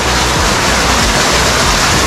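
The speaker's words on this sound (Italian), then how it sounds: "Cascata," Steady broadband roar of a waterfall in a hidden forest valley with glacier-carried stones, close and loud, continuous for the whole stretch with no voices.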